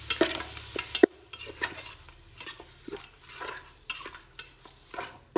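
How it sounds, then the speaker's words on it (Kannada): Mutton pieces go into a pan of frying masala for hotel-style biryani and are stirred through, giving a burst of sizzle at the start followed by repeated close scraping and stirring strokes with a spoon against the pan. "ಸೊ ಆ ಮಟನ್ ಇವಾಗ ಇದು ಹಾಕೊಳ್ಳೋಣ. ಹಾಕಿ ನೀಟಾಗಿ ಮಿಕ್ಸ್ ಮಾಡ್ಕೊಳ್ಳಿ."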